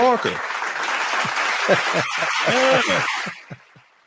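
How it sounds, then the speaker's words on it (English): Audience applause with loud shouting voices over it, a steady wash of clapping for about three seconds before it thins out and fades. "Go ahead and give him a round of applause."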